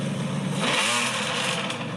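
A restomod car engine revs through its exhaust, a loud rising mechanical roar that swells near the start and holds steady across the short stretch without speech.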